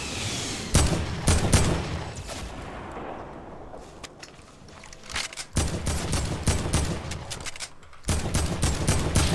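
Gunfire in the battle-royale game Fortnite, with sharp, loud shots cracking out in dense repeated bursts, a short quieter lull in the middle, then more rapid volleys.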